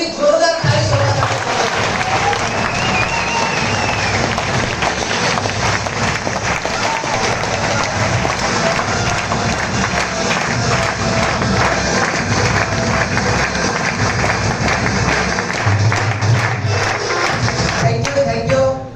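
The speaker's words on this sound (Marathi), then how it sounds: "स्वतःवरती जेवढा अभिमान आहे तेवढी जोरदार टाळी स्वतःसाठी." Loud, sustained applause from a large audience at a motivational talk in Ahmadpur, dense clapping filling the whole stretch with a few voices and crowd noise mixed in.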